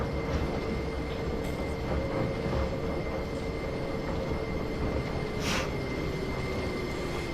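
Class 08 diesel shunter locomotive in a Train Sim game on the Whitby and Pickering heritage line: a steady, loud engine rumble with a slowly shifting whine and a brief hiss near the end.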